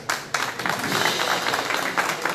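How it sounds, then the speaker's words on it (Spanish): A crowd in El Alto applauds a champion football club being honoured for promotion, many hands clapping in a dense, fairly loud burst with a few sharper claps standing out. "Fuerte, fuerte los aplausos a nuestro equipo campeón,"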